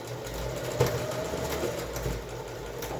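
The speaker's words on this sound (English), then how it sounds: "Okay, now important, backstitch back and forward, go a couple times," Sewing machine backstitching back and forth over a fabric face mask tie, a steady close mechanical whir with brief stitch bursts and no talking.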